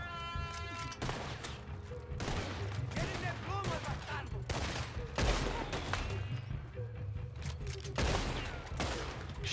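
Repeated gunshots from a Western-style gunfight in Red Dead Redemption 2, dense bursts of loud rifle and pistol fire over several seconds, mixed with game ambience and a speaking voice.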